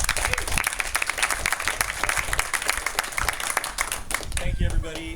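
An audience at a community meet-and-greet with a county supervisor breaks into steady, dense applause for an introduced guest, sustained for several seconds with voices underneath.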